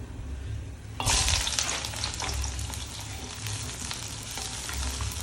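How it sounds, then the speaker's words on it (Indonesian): Sliced spices and pierced chilies drop into leftover cooking oil and start sizzling sharply, a loud crackling fry that settles into a steady bubbling hiss with stirring scrapes. "Sisa minyak saya pakai untuk menggoreng bumbu."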